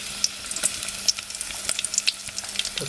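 Crackling sizzle of garlic frying in hot oil, with sharp pops and spits scattered over a steady hiss, close by and with no talking.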